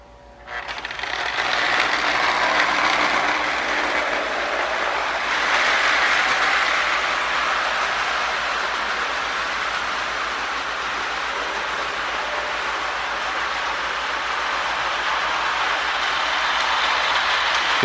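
A Marx 898 toy smoking train locomotive runs steadily along its track, giving a continuous loud mechanical whirring and rattling with a brief swell early on and no talk.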